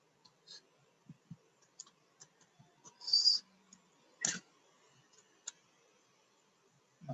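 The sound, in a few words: typing a password on a keyboard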